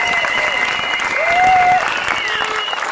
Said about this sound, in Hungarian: arra kérlek titeket, hogy fogadjátok őt is hatalmas tapssal